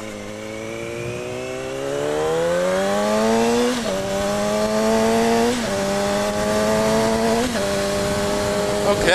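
A motorcycle engine pulls away and revs up through the gears, a steady close drone that rises in pitch and then dips briefly at each of several shifts while the bike keeps riding along.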